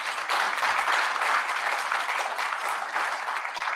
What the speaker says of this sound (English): give the good doctor another round of applause